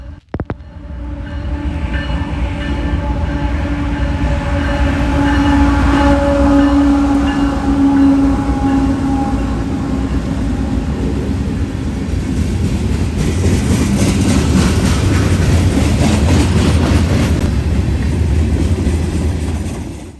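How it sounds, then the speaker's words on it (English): A long freight train on the Dayton District passes close by behind a BNSF GEVO and a Norfolk Southern ES44AC, with steady loud engine drone, horn-like tones early and rolling wheel noise building throughout. "179 led today by a BNSF GEVO and an NS-944CW on the head end."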